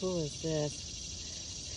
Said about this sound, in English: Found a locust slash cicada.